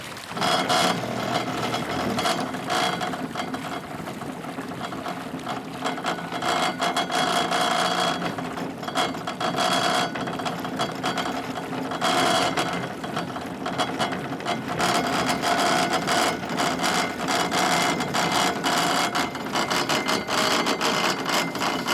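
An outboard motor drives a small boat across a river, a loud, steady, close mechanical drone with a busy rattling texture that holds throughout, with no talking.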